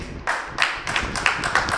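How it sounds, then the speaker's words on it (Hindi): Audience clapping at a motivation training session in Agra, a short burst of several sharp hand claps in loose rhythm from a small nearby crowd. "सर जोरदार तालियां अपने आप के लिए बजानी है"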